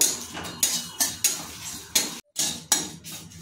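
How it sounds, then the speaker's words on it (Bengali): Cumin seeds and dried red chillies dry-roasting in a bare pan over low heat, with a utensil scraping and rattling them in repeated close strokes and a brief gap near the end; no voices. "তাই দিয়ে দিচ্ছি জিরে আর শুকনো লঙ্কা। এটা শুকনো খোলায় ধিমি আঁচে ভেজে নেব।"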